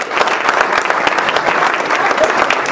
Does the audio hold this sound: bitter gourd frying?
no